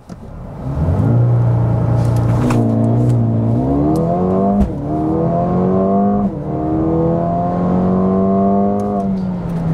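A Mercedes-AMG CLA 35 4MATIC launches hard in sport mode, its engine revving loudly and climbing through several gears, with pitch dropping at each shift before rising again, close and sustained.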